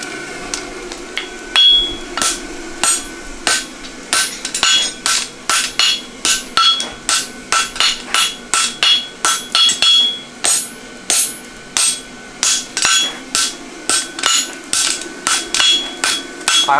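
A hammer strikes a horseshoe being forged, in a long series of loud, ringing metallic blows at a steady working rhythm with brief pauses between bursts.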